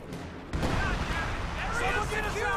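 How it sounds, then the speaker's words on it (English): A Priest self-propelled gun keeps up a creeping artillery barrage in a World War II strategy game, booming in heavy, continuous rumbling blasts after a quieter start, with a voice talking over it. "Oh, it's a creeping barrage."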